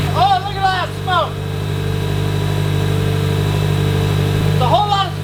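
A Subaru WRX engine idles steadily and smoothly up close, a continuous low hum with no revving, while a person talks briefly at the start and end.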